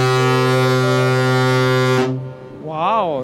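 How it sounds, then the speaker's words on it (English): Very loud, sustained horn blast in a concert hall lasting about two seconds, then cutting off abruptly, followed by a person speaking. "For the full effect, Mr. Toyota needs to stand directly in front of the horn."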